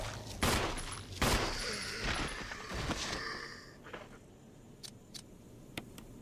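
Gunshots in the Resident Evil Remake video game, two sharp loud blasts close together near the start, followed by quieter thuds and a few scattered clicks and taps as the action settles.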